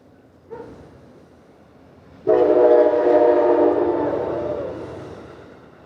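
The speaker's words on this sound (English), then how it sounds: "as the train passes by" A train rolls past near an outdoor commencement ceremony in Vermont, its loud broadband rumble surging in abruptly after a faint earlier sound, holding steady and then slowly fading as it passes.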